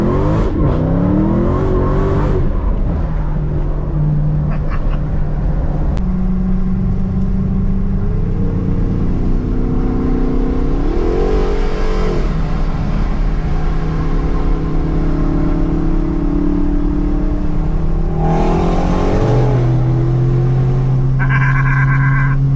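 A 2021 Dodge Challenger Hellcat Redeye Super Stock accelerates hard, its loud, close engine climbing in pitch through several surges and shifts, with a brief squeal of tires near the end.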